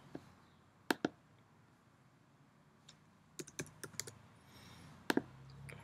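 Sharp mouse clicks on a computer while working in Cricut Design Space, a few isolated clicks spread out with quiet gaps, some doubled, close and moderately loud with no talking.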